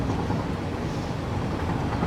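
A steady, dense rumble of a train rolling along rails in the factory-building video game Satisfactory, continuous and even with no breaks or speech.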